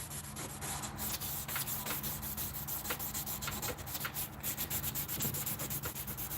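Steady abrasive rubbing of sanding on aluminum in a shop, a continuous scratchy hiss with slight rhythmic strokes, close and fairly even throughout, no talking.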